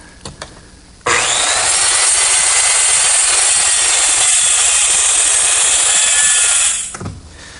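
A power saw cuts squarely through the end of a glued wooden butcher block, a loud, steady whine that runs unbroken for about six seconds before spinning down, with brief quieter workshop noise at the start and end.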